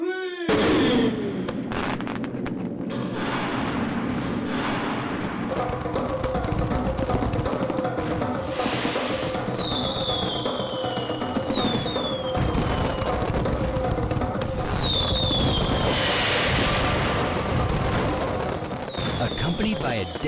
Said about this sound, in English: Accompanied by a dazzling laser and fireworks display, the Singapore Flyer is launched